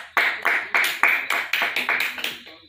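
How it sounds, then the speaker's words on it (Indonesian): Classroom applause after a group presentation: a short burst of rhythmic clapping from a small group, eight or nine distinct pulses of close, fairly loud claps with no talk over it. "kita beri aplaus dulu"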